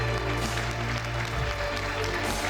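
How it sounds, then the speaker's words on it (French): Applause rises from the crowd at a regional youth beauty pageant for a contestant named Cassandre, a dense steady patter over a low sustained hum, with no talk over it. "on peut l'applaudir, oui, Cassandre."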